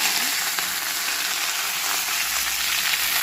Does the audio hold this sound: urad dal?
yes